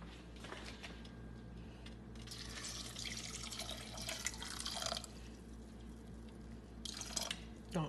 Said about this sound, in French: Et je vais mettre de l'eau.